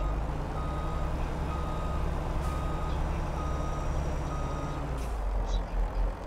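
A truck backs up a tilting grape trailer in Farming Simulator 22 with steady, evenly spaced reversing beeps. The beeps sound over a constant low engine drone, with faint air-brake hisses.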